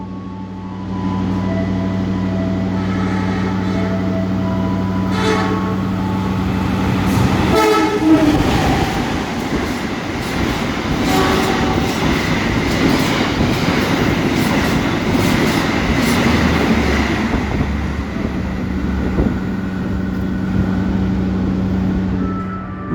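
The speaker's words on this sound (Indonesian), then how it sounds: "Jalur 2 dari arah barat melintas langsung kereta api Batavia tujuan Solo Balapan" Batavia express train passing straight through Haur Gelis station in Indonesia, a loud rumbling pass with a sustained horn at the start and a steady clatter of carriages that lasts throughout.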